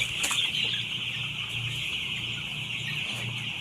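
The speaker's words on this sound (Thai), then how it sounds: "ไก่มาอยู่กองกันอ่ะ" A group of chickens bunched together clucks continuously at close range, with soft overlapping calls over a steady high background hum and no speech.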